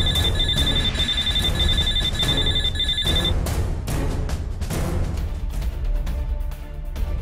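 A phone ringtone sounds as a series of short, bright repeating electronic bursts for about three seconds and then cuts off, loud against busy background noise.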